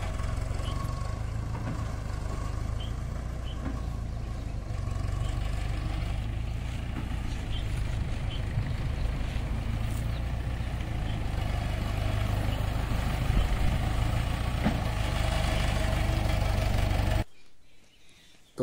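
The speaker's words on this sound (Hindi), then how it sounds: "अभी चाचा जी का ट्रैक्टर आ गया है लेके बाजरा" A tractor loaded with millet arrives in a village, its engine rumbling low and steady at moderate distance for most of the clip before cutting off abruptly near the end, with faint birds in the background.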